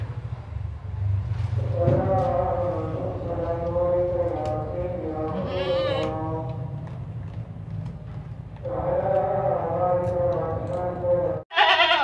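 Makhi Cheeni goats at a livestock market bleat repeatedly in long wavering calls over a constant crowd murmur and background chatter, loud and close.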